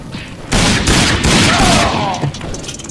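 Gunshots in a video game, with a dense, loud volley of rapid shots and booms bursting in after a quiet start and lasting about two seconds before fading.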